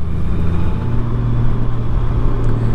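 A Honda Goldwing motorcycle touring through the Ardennes, heard as a steady, loud low engine and wind rumble from the rider's position, continuous throughout.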